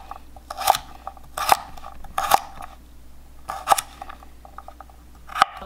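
A carrot is peeled in short separate strokes, five or six crisp close scraping clicks spaced about a second apart over quiet room noise.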